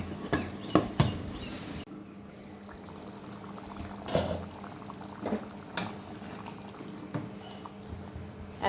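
Water goes into a cooking pot of Bengali-style breakfast curry, giving a close, soft pouring and splashing sound followed by scattered clinks and quiet kitchen noises.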